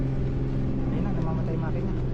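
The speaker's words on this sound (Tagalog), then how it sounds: "Ayun na, namamatay yung makina." A motorboat engine towing a parasail hums and rumbles, with harmonic tones that waver as the engine dies. People talk over the engine noise.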